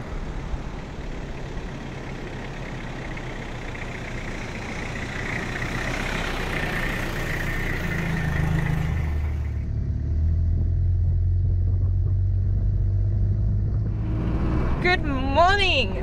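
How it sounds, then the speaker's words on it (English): An old Toyota 4WD drives along a sand beach on the way to Fraser Island, its low engine rumble and road noise steady throughout, with the tone shifting midway and a brief higher whine near the end. "now we are driving back down the beach to meet Darcy to go to Fraser"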